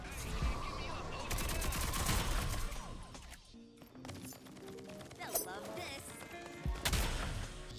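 Dense gunfire from an SLC weapon in the video game Rogue Company, with overlapping bursts and impacts, a brief lull midway, and voices talking over the shooting.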